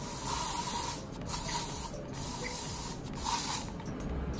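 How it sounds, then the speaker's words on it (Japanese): Elnett hairspray is sprayed onto styled bangs in a series of close hissing bursts, several short pulses with slight gaps between them, alone without talking. "次にエルネットスプレーをつけていきます。"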